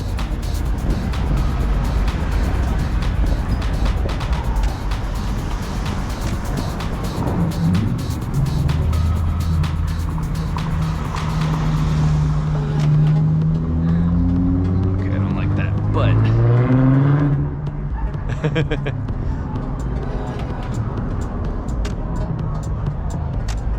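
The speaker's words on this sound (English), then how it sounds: "It's a lot of traffic." Cars pass steadily on a busy road as a rumbling wash of traffic, with one vehicle's engine note rising and falling clearly near the middle, while people talk over it.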